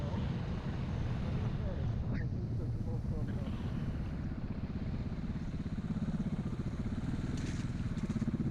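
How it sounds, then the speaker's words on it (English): Gritty crunching and rumbling from off-road motorcycle wheels rolling over ice on a gravel trail in southern Sweden, steady under a droning engine and wind noise, with faint talk mixed in. "You can hear the ice crunching under the wheels there."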